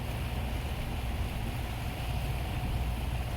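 A speedboat engine idles roughly and runs poorly in a steady low rumble, with no clear rise or fall in speed and a constant wash of wind and water noise over it.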